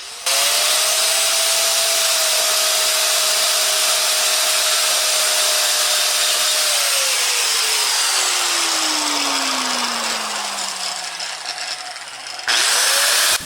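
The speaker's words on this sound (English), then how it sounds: "I have to get the compound on the wheel by running the grinder into the compound while spinning" A bench grinder spins a buffing wheel pressed into polishing compound for work on a stainless steel piece: a loud steady whine that winds down in pitch as the wheel slows, then a sudden return to full speed at the end.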